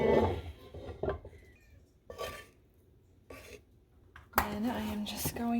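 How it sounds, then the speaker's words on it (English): Chopped vegetables and meat are tossed into a slow cooker for a cowboy casserole, making a few separate clunks and clattering thumps with quiet pauses between them, the last drop the loudest. "I'm just gonna throw in all of my chopped veggies, and then I'm gonna get all of this meat in here."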